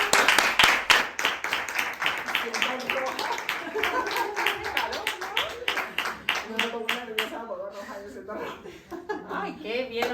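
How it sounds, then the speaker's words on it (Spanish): Podcast guests clapping together with chuckles and laughter, a dense patter of claps that thins out toward the end, with voices talking over it. "¡Bravo! ¡Un aplauso!"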